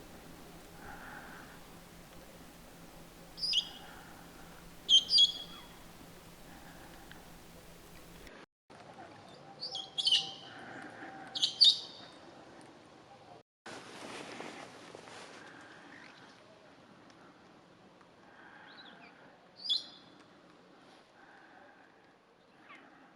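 Endemic Ethiopian parrots feed on seeds in a single tree in the Bale Mountains, giving sparse bursts of sharp, high chirping calls spaced several seconds apart over a quiet, faintly hissing background.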